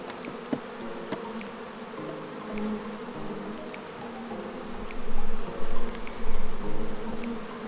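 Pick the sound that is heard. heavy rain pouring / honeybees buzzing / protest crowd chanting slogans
honeybees buzzing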